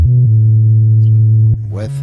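A synth sub bass played without OTT compression gives a deep, smooth, pure low tone held loud and steady for about a second and a half. A short lower note follows, then a brief rising squelch at the end.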